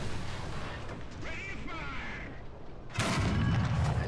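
A Tiger II tank fires a shell in War Thunder: a single loud, sharp cannon blast cuts in near the end over a low rumbling battlefield drone, leaving a booming tail.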